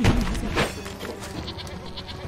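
Goat bleating in the video game Baldo, a brief wavering bleat heard loud and close, with game sounds around it.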